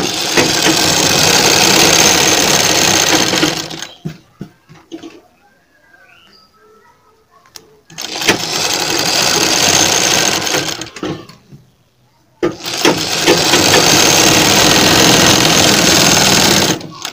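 A sewing machine stitches a frill seam in three close, loud bursts of fast mechanical whirring, separated by quiet pauses with faint handling sounds.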